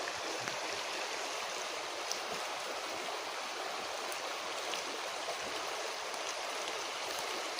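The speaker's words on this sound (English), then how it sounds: "That's the creek right there." A creek along a trail near Sedona, Arizona, flowing in a constant, close, hissing rush of water with no breaks and no voices.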